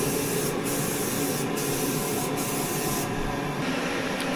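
Aerosol cans of 2K clear coat sprayed over a steel bumper, a steady continuous hiss from close by, with short pauses in the spray and no talking.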